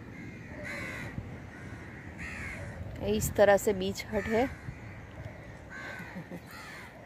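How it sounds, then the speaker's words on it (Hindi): Crows cawing at a Goa beach, a run of loud, close harsh caws clustered in the middle, with someone speaking before and after them. "इस तरह से काव भी आ जाती है"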